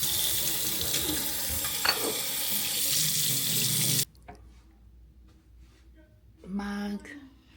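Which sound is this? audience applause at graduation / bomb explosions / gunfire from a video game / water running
water running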